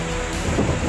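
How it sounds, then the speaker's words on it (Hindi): Heavy rain and strong gusting wind roar steadily and loudly along the coast at Digha, India, with a low thunder-like rumble underneath; no voices. "यहाँ पे बारिश शुरू हो चुकी है, तेज हवा भी शुरू हो चुका है।"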